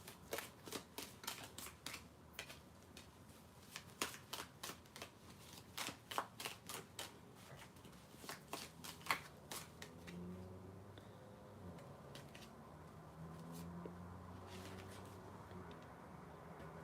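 Tea leaf cards being shuffled by hand, a quick, faint run of crisp card snaps and flutters for several seconds that thins into soft, scattered rustling.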